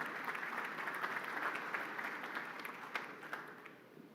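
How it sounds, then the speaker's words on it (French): Audience at a Moroccan tomato industry conference applauding to welcome a speaker, a moderately faint, dense patter of many hands that swells slightly and then gradually tapers off. "qu'on accueille chaleureusement avec vos applaudissements"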